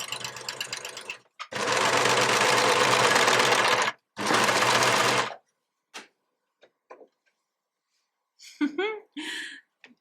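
An overlocker sewing machine stitches with colourful overlocking thread, running in two loud, steady bursts of rapid whirring, followed by a few soft clicks and a brief rustle near the end.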